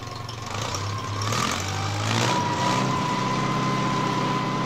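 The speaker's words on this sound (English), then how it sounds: "That's the broad range of governed engine RPM the new 3020 and 4020 tractors provide" A John Deere 3020 or 4020 tractor engine climbs from a low idle to a higher, steady whine, revving up and then holding a sustained pitch, close and fairly loud.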